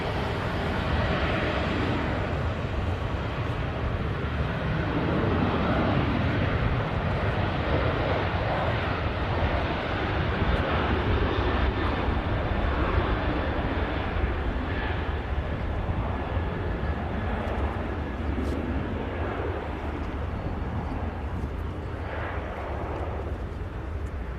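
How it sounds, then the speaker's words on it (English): A Ryanair airliner at Manchester Airport, a loud continuous jet roar that holds steady throughout, broad and rumbling with a faint rising whine near the end. "Ryanair arrives, one departs."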